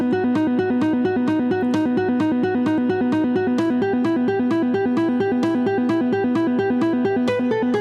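A distorted electric guitar plays a fast, repeating legato riff, notes pulsing in a steady, driving rhythm.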